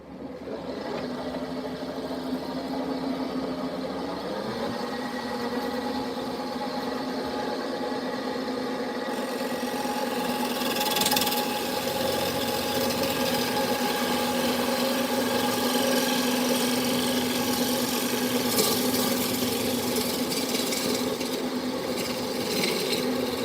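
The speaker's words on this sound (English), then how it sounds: "So we're going to bust out the bowl gouge again." A wood lathe spins a bowl under a bowl gouge, giving a continuous droning whir with a steady hum and brighter scraping bursts as the cut goes on.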